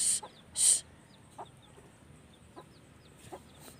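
Chickens on a backyard poultry farm, with two loud bright calls at the start followed by faint scattered clucks and chirps over a quiet outdoor background.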